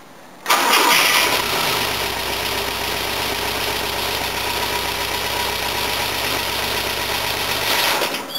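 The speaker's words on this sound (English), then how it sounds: "Started pretty quick, it still sounds like it's got compression on all cylinders." An old Volvo engine cranks briefly and catches, then settles into a steady, loud idle that runs on without talk.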